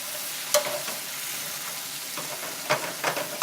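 Italian sausage and peppers sizzle steadily in a pan, a close, even hiss broken by a few clicks and scrapes of stirring, with no voices.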